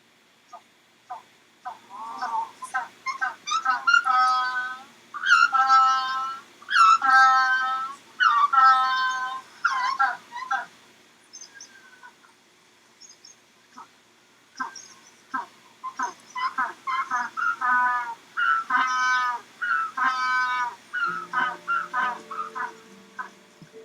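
Magellanic penguin braying at a zoo exhibit, a long series of loud, harmonic honking calls in bursts with short pauses, close and clear, with no talk over it.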